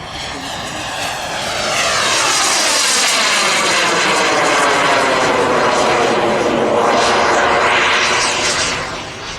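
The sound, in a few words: model jet aircraft gas turbine engine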